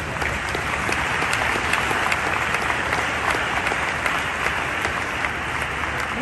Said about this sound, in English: Big applause for everyone.